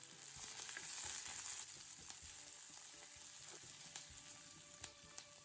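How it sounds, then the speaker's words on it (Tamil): Chopped onion sautéing in oil in a pan for a mint peanut chutney, a steady close sizzle with occasional stirring clicks and scrapes throughout. "தேவையான எண்ணெய், ஒரு பெரிய வெங்காயம் சேர்த்து நல்லா வதக்கிடலாம்"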